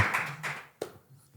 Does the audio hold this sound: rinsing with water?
no